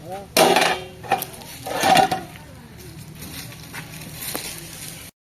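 Metal clanks of a lid set onto a cooking pot of simmering turkey, a couple of ringing knocks and rattles, close by, followed by softer kitchen sounds.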